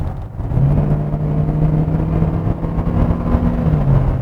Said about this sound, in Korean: 이 배기음이 좀 더 괜찮아졌어요